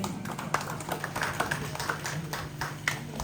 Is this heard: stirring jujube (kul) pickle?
no